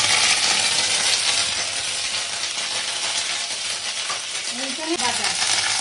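Garlic and ginger paste frying in mustard oil with garam masala and bay leaf for a prawn malai curry, a loud continuous close sizzle with faint clinks near the end.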